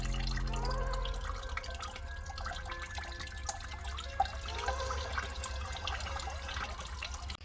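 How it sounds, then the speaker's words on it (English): Coolant draining slowly from a car engine during LS VTEC cylinder head removal, a thin trickle and light dripping with a low hum fading out early, fairly quiet with one sharper splash midway. "Slowly let out a nice stream of coolant."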